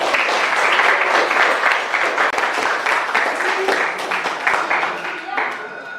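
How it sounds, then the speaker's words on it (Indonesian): Students in a classroom clap for a student presentation group, with rapid, steady hand claps close and loud for several seconds and voices mixed in, easing off toward the end. "Silakan tepuk tangan buat kelompok Kim Ju."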